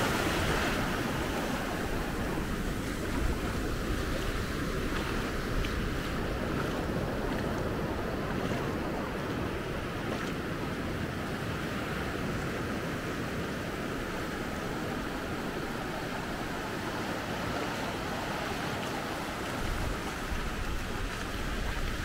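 Steady surf washes continuously along the beach at Maspalomas on Gran Canaria while someone walks through warm shallow water, a dense, unbroken rush of waves mixed with wind buffeting the microphone and no talking.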